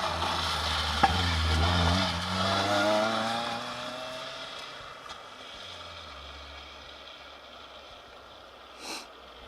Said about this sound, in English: Sounds like a bit of a misfire on that 206 Cup car, doesn't there?